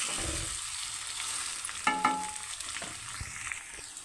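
Country chicken frying in a pan after ginger garlic paste is added, a soft sizzle under scraping stirs and a few clanks of a spoon against the vessel, close and fairly quiet.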